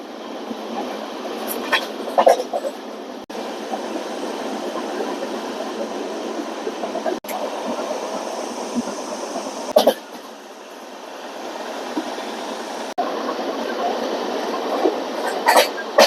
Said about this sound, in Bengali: এই ট্রেনটা এখান থেকে একদম নন স্টপ জার্নি করবে 202 কিলোমিটার